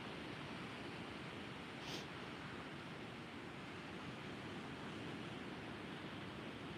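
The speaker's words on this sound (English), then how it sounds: "this sound I'm hearing right now of the ocean just gently crashing is quite nice" Ocean waves wash gently onto a beach at night, a steady broadband hiss of surf rolling on without breaks, moderately distant and even in level, with no voices.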